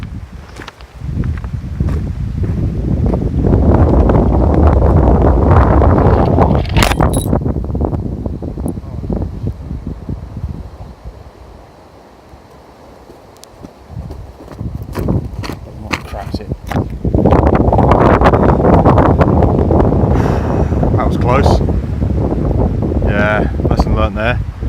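Strong wind gusts across a channel at the shore where someone is fishing, roaring and buffeting the microphone in long waves that ease briefly in the middle before surging again.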